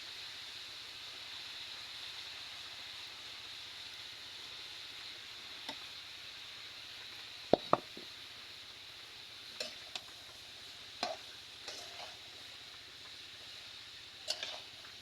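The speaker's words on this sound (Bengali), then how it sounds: "আমি ভাজিটা কিন্তু ভালোভাবে নেড়ে চেড়ে মিশিয়ে নেব" Vegetables being stirred and mixed in a pan over steady frying sizzle, with several sharp clacks of the spatula against the pan scattered through; no talking.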